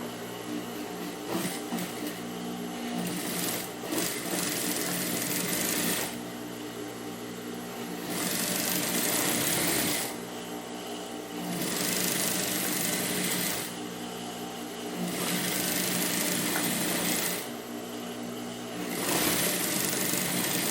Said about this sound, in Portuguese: eu vou passar mais uma aqui para prender a parte de baixo